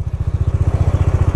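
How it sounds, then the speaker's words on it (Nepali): A Bajaj Dominar 400 motorcycle engine with a shim noise fault runs with a fast, even, low chugging pulse, loud and close, with no voices. "मेरो बाइकको कस्तो साउन्ड आइरहेको छ यार यस्तो इरिटेटिङ लगाइरहेको छ नि चलाउनलाई"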